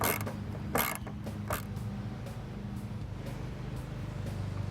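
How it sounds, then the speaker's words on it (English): A 13mm deep well socket turns and clicks while removing nuts on a 2015 Mustang's fender, close up: a few sharp ratcheting clicks and metallic bursts early on, then quieter repeated light ticks over a steady background hum. "if you take your time with your 13mm deep well socket while removing the nuts"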